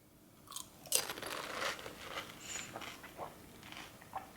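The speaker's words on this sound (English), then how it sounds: "So I filled it with the pani, and I'm going to now taste it." Someone bites into a pani puri filled with pani, and a few close, soft crunches and chewing sounds follow at an uneven pace. The sounds are quiet, with no talking.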